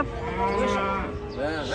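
A cow lets out a long, loud moo while being unloaded from a truck, over steady background noise and faint voices.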